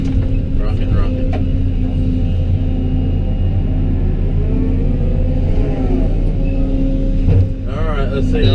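A stuck truck hauling brush strains with a loud, steady engine rumble and revving as its wheels spin in place, someone talking over the noise throughout.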